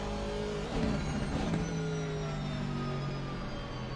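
Simulated race car at Brands Hatch in Assetto Corsa Competizione, engine screaming under throttle with a brief rev spike and a slow sliding pitch, loud and steady with no speech.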